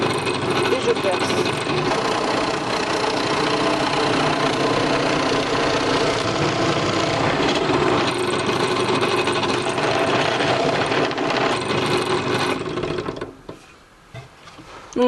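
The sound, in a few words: drilling a hole in a wooden batten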